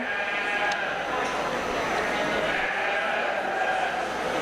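Sheep bleat in the ring at a 4-H livestock show, their calls rising out of a busy, echoing crowd murmur, with a voice talking over the steady background noise.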